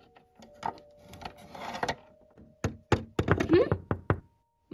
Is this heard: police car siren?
no